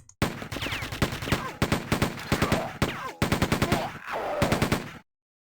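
Rapid machine-gun fire in Quake II on Hard difficulty, loud close bursts of evenly spaced shots with short pauses between volleys, ending abruptly in silence.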